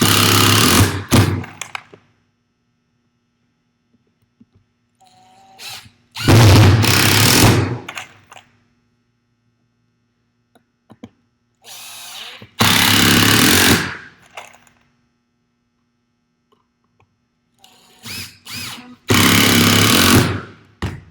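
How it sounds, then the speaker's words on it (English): Power screwdriver driving screws into the lid and frame of a theatre stage deck, several separate loud buzzing bursts of a second or two each with quiet gaps between, close by. "So now I've attached the lid, it's been glued and screwed."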